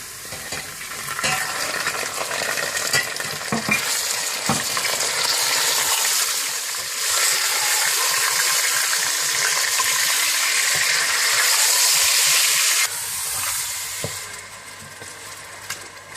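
Meat added to browned onions sizzling and frying in a pot for haleem, a steady loud hiss with stirring scrapes, briefly quieter near the end.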